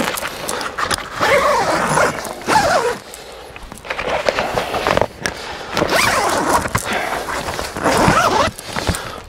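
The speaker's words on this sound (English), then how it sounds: "So let's just zip that back up." A Dometic 390 All Season camper awning extension panel being zipped up, with three long, loud rasping zipper runs separated by brief pauses, close by and alone.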